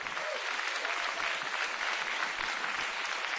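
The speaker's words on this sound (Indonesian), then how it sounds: "Tepuk tangan untuk bangsa Indonesia." Steady, dense applause from the audience at the 2014 Indonesian presidential inauguration ceremony, a continuous wash of many hands clapping at even loudness throughout, with no voices standing out.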